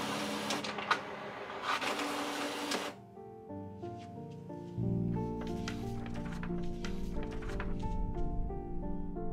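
A faulty home printer runs nearby, with a harsh burst of mechanical noise followed by a rhythmic whirring and clicking feed mechanism that continues steadily and fairly quietly.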